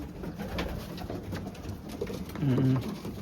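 Racing pigeons in a loft give a soft, low coo near the end, heard close over faint background noise and a few soft voices.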